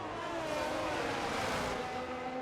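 An F1 22 race car in the video game at Singapore, braking into a corner, gives a steady mid-loud engine whine with a falling pitch and a faint rushing noise, with no voices.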